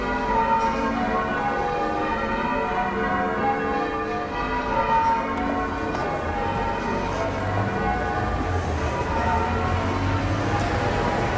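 Church bells rung by bell ringers at St Benet's in Cambridge peal continuously, a dense, layered ringing of overlapping tones that fills the air steadily throughout.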